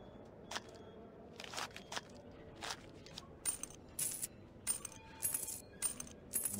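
Coins dropping as a passenger pays a train fare in a children's cartoon, a series of bright, sharp metallic clinks and jingles in irregular clusters, growing busier toward the end over a quiet background.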